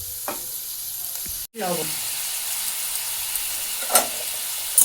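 Spice paste being stir-fried in oil in a pan for a fish curry, a continuous hissing sizzle with a brief cut, occasional scrapes of stirring and a short word spoken over it.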